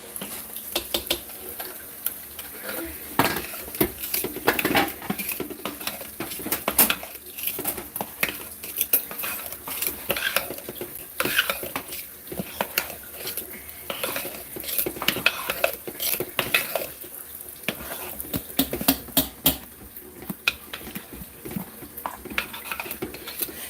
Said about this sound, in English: this one here, in my opinion, needs another stir and chop up on these little white chunks of stuff so it'll melt